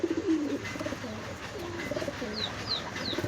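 Pigeons coo in low, rolling repeated phrases close by, with a few short high chirps and a steady background hum.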